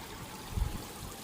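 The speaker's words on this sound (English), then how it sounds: "Our little waterfall's working." Gentle continuous trickle of a small garden waterfall water feature, soft and steady, with a faint splashy bump partway through.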